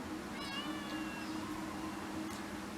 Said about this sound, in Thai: ผมก็นึกว่าแมวมันร้องอะไร